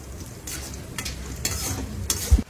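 Dry red chillies, curry leaves, asafoetida and mustard seeds sizzle loudly in hot oil for a South Indian tempering, with steady crackling and a few sharp stirring scrapes close by.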